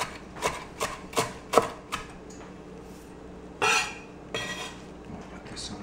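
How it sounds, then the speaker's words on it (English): A knife chops Italian parsley on a board in a few sharp, close knocks, followed by a louder scrape and a few lighter taps, with no talk. "now we have the Italian parsley, and I'm just gonna chop this up"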